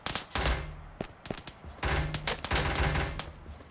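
A powerful gun firing in a video game: several loud, sharp bursts of rapid shots close by, broken by short pauses, with no one talking.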